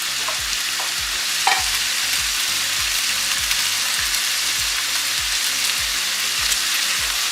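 Butter melting and sizzling in a hot pan with a steady, even hiss, one sharp clink near the start and soft repeated low thumps underneath, no talking.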